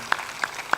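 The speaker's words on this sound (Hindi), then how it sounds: "ताली कौन बजाया है?" Hand claps in an ashram: three sharp, separate claps, evenly spaced about a third of a second apart, fairly faint against quiet room tone.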